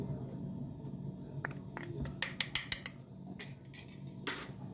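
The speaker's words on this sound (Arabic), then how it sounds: "هقلب بقى كل الكلام ده ببعضه لغايه بس ما ريحه الدقيق تطلع معايا" A spoon stirs flour in a pot, clinking and scraping against the metal sides in quick bursts, with a cluster of sharp taps in the middle and a low kitchen hum underneath. No one talks.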